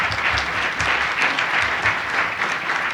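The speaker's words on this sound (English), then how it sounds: "Let's give them a big round of applause." Steady audience applause fills a community lecture event in Newark, a dense, even wash of many hands clapping for the full stretch with no voices on top.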